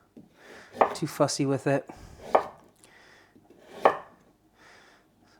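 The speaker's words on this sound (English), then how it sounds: "So I'm going to cut that into little ribbons." Knife chopping vegetables into thin ribbons on a board for stir fry, a few sharp close taps spaced irregularly under and between a person's talking.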